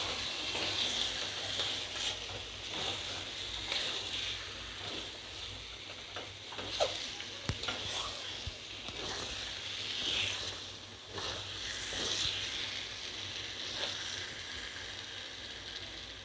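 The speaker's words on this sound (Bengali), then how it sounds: "দিয়ে এবার আমি এই মশলার সাথে ভালো করে মাংসটা কষিয়ে নেব।" Raw chicken pieces fry with spices in a pan, a steady low sizzle with occasional soft scraping stirs and small pops, fairly quiet and without talk.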